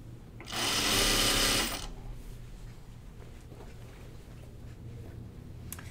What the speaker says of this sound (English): I'm just going to sew up to it because I know it is here somewhere